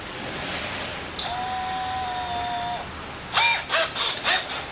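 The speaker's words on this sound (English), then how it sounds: "we're just gonna drill that rivet out" A power drill drills out a rivet on a Jeep Grand Cherokee front seat cover: steady whine for a couple of seconds, then several short bursts with revving pitch, close up.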